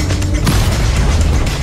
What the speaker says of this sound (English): Smash through buildings.